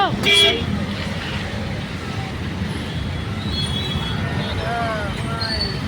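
Vehicles crowd forward as a railway crossing gate opens, with a sharp horn blast at the start, a few fainter toots later and a constant dense traffic rumble, while someone talks over it.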